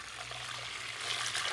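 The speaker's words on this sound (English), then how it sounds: "So this is the pot. What you're going to do is to add your water." Hot water pours steadily into a cooking pot for fufu, a continuous close splashing trickle with a low hum beneath it.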